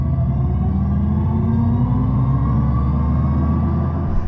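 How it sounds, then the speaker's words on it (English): An Audi RS e-tron GT electric car plays its artificial drive sound, a steady low synthetic hum with rising tonal layers, close and continuous without any talk. "Audi has worked to develop a sound for this car"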